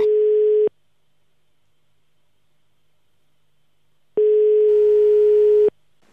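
Telephone dial tone heard while a call is being placed, a steady electronic tone in two separate bursts: a short one at the start, then a longer one after several seconds of silence, with no voices.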